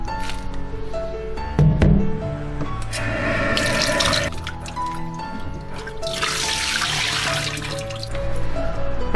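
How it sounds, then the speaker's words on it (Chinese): Loquat flowers are rinsed in clean water in a kitchen, with running and splashing water and dripping heard close by. The splashing comes in uneven bursts, with some clinking, and there is no talking. "然后再用清水清洗干净"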